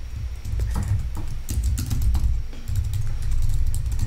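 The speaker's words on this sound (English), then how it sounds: "so I'm just typing" Fast, steady typing on a computer keyboard, crisp close key clicks running continuously over a low background hum, with no one talking.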